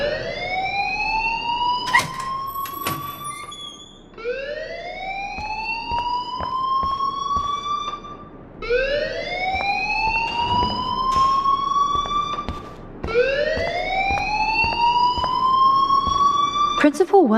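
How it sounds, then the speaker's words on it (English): Alarm ringing in the video game Life Is Strange: a loud electronic wail that sweeps upward and resets in four steady cycles, continuous and close throughout. "please turn off that alarm since that's your job"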